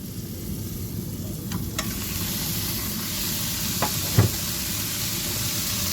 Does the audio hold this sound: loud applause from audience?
no